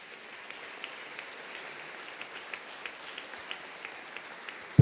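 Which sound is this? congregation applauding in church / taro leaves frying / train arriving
congregation applauding in church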